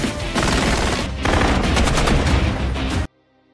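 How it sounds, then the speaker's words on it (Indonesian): Gunfire in a film firefight between special forces teams, a dense, loud stretch of rapid shots and bursts that blur together for about three seconds and then cut off abruptly into silence. "Baku tembak berlangsung sangat sengit."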